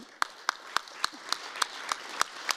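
A single person claps slowly and steadily, about ten sharp claps roughly a quarter second apart, at a human rights event on the final day, quiet room with no other crowd noise.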